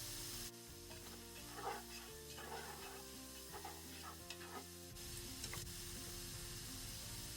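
Red capsicum, corn and spring onions stir-fried in a pan, a soft continuous sizzle under repeated scraping and stirring strokes, close and fairly quiet throughout.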